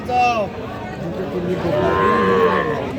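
Sahiwal bull calves at a busy cattle market give a loud, drawn-out moo, then a second lower moo. Crowd chatter and voices carry underneath throughout.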